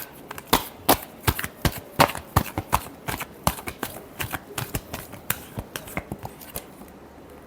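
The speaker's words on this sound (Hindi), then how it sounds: "Last shuffle." Tarot cards being shuffled by hand: a rapid run of crisp, papery riffles and slaps in an uneven rhythm, close and fairly loud, fading toward the end, with no talking.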